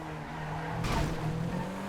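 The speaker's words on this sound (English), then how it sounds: "Panto race car" A Panto race car in GTA V, a small buzzing engine note that swells as the car passes close by, with a brief tire squeal at its peak.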